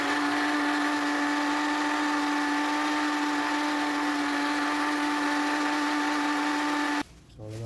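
A kitchen grinder whirs loudly and steadily for about seven seconds, blending beef curry masala for Hyderabadi beef curry into a fine paste, then cuts off abruptly and winds down.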